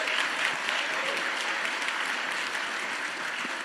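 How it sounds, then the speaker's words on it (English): Audience at a Michigan Secretary of State debate breaks into sustained applause, a dense, even wash of clapping from many hands that carries on without a break. "So please give him a round of applause."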